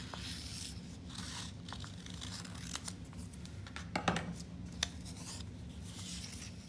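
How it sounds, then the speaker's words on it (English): Scissors cutting a small heart shape from paper, with a series of close, crisp snips and rustling paper over a low steady background hum. "So I'm going to cut out a smaller heart."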